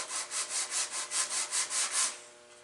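A maple block is hand-sanded with 120 grit sandpaper at a workbench while a turkey call is being made. About nine brisk back-and-forth rasping strokes follow one another evenly and close up, then the sound stops.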